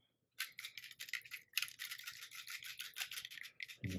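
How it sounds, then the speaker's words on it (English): A metal mixing ball rattles inside a spray bottle of mica being shaken, a near, steady run of bright clattering taps with no talk, ending in a low thump. "And you hear the metal ball in there."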